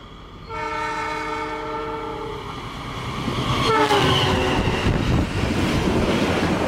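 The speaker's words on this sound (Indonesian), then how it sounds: "kereta api Gajayana melintas langsung di stasiun Magetan, ngebut banget" A train horn blares with steady harmonic tones, then the Gajayana express train roars past close by through Magetan station without stopping, with rising rushing noise and clattering wheels.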